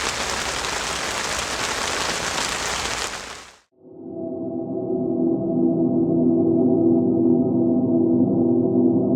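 Rain hisses steadily on a surface in Italy, a dense loud wash that cuts off abruptly and gives way to a steady low hum.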